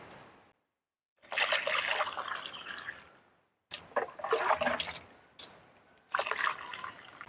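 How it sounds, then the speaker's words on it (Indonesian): Water gushes into a plastic sprayer tank in three long bursts separated by brief pauses, a loud, close splashing fill with no talk. "Lanjut kita isi tangki sprayer sampai penuh."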